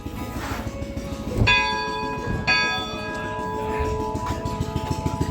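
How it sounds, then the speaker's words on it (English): An old church tower bell, pulled by a small rope, rings to signal the start of a sawmill at an antique gas engine show. Two clear strikes ring out over a steady running engine, each leaving a long sustained hum. "So when we ring that bell, that means it's time to run the sawmill."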